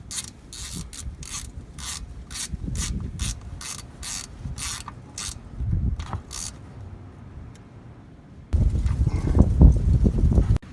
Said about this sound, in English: we're just going to go ahead and put the drain plug right back in. Just going to tighten it down, get it nice and snug.